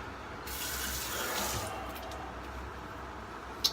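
Water runs from a tap for rinsing during a wet shave, a steady hiss for a few seconds with a brief clink near the end, close and moderately quiet.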